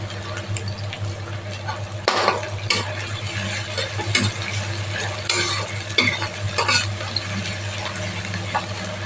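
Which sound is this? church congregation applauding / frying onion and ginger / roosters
frying onion and ginger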